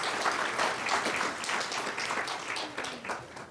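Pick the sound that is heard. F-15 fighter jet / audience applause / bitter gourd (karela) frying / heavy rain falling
audience applause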